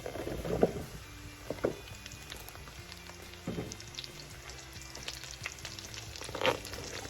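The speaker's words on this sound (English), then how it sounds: "then we're gonna saute some mushrooms" Mushrooms sautéing in a pan with leftover meatball juices and garlic, for IKEA Swedish meatball gravy: a faint, soft sizzle with sparse crackles and occasional spoon clicks.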